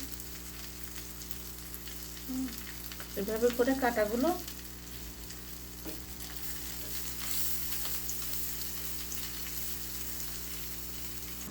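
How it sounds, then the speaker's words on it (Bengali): Dried fish (shutki) with onion fries in a pan, giving a steady, soft sizzle throughout, with a brief louder burst of stirring and clatter partway through and a voice talking quietly over it. "ছুটকিগুলো সুন্দর ভেজে নিয়েছি"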